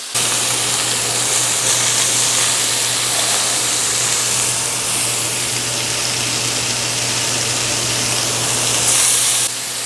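Oxtail searing in a hot pan, a loud, dense, continuous sizzle and hiss held steady throughout, close up with no voices.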